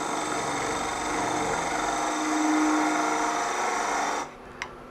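Between-centres woodturning lathe spinning while a tool cuts a spindle down in diameter, a steady, loud whirring hum with a rough scraping texture that stops abruptly near the end, leaving near silence and a faint tick.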